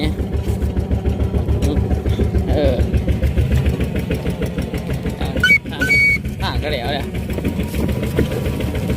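A chugging tractor engine idles with a steady rhythmic putter throughout, close by, while people talk over it.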